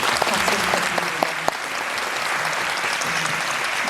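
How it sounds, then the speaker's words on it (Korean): An audience at a film screening Q&A at the Busan International Film Festival's Sohyang Theater applauds: steady, dense clapping from a crowd that fills the hall throughout. "박수 부탁드립니다."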